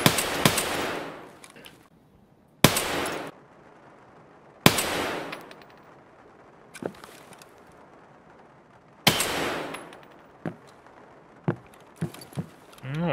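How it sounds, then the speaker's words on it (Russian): Sharp, loud gunshots in the video game Escape from Tarkov, about four big cracks each followed by a decaying echo, then a flurry of smaller quick pops toward the end. "Он сейчас неплохо прицелился, выстрелил."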